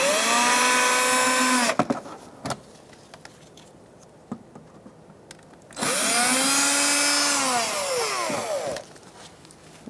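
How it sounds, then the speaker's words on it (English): A cordless drill with a Phillips bit whines in two long bursts removing screws from a Kia Soul, its motor pitch dipping and rising as it works, separated by a quieter stretch with clicks and handling noise. "Using a Phillips head bit on my drill,"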